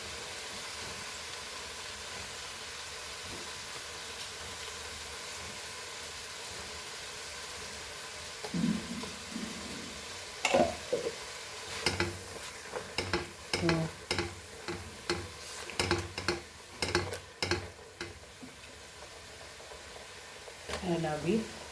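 Beef frying with masala in a pan: after a quiet start, a run of sharp scraping and clicking stirring strokes over a soft sizzle, close and fairly loud, with brief speech-like sounds mixed in.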